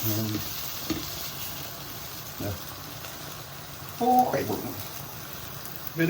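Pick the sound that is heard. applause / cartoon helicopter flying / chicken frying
chicken frying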